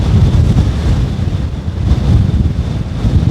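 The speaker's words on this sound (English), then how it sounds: "Give you an idea on how windy it is out here today." Strong gusty wind buffets the microphone on McCracken Golf Course in South Australia, a loud continuous roar with rising and falling surges and no voices.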